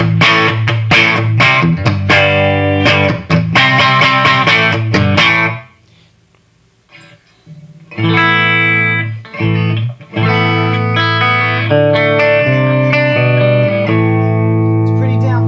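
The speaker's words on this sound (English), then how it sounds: "What you're hearing is the power tubes getting really hot, starting to get slightly overdriven." Electric guitar on a humbucker pickup through a Marshall JVM210 clean channel with the master fully up, loud and slightly overdriven: quick strummed chords, then a short pause and sustained ringing chords, all close and with no talk.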